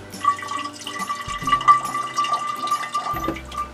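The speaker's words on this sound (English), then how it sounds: "every morning I grab my jar of seeds and I run water through this mesh lid" Water trickles and splashes close by, a gurgling, bubbly flow with small drips as it pours through a mesh lid into a jar of sprouting seeds.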